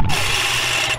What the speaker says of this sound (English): And that noise is the convection fan.